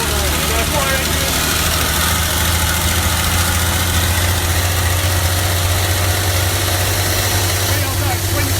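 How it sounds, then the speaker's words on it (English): A fire engine drives along with a steady, deep engine drone and vibrating rumble that stays loud and constant throughout, with voices faintly mixed in. "We're falling over round the corner. The fire engine."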